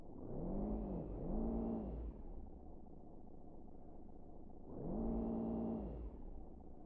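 Car engine in a video game, a droning hum that swells twice into higher revving pitches between steadier cruising, with no talking over it.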